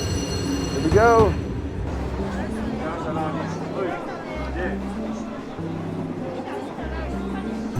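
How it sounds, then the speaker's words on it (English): A slow passenger train runs steadily with low rumbling and rhythmic rolling, a brief squeal near the start, while passengers chat in the background. "The train has an average speed of less than 40 kilometers per hour"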